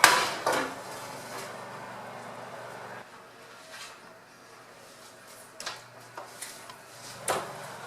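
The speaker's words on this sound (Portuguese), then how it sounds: "Após 10 minutos, eu vou retirar a bandeja do forno." A baking tray of blender bread comes out of the oven with a sharp metallic clatter at the start, followed by quieter clanks and knocks scattered through the rest.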